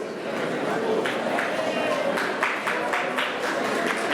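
A crowd applauds the winner Corinne of a first prize at an event, a steady wash of many hands clapping with a few voices mixed in, fairly loud and close throughout.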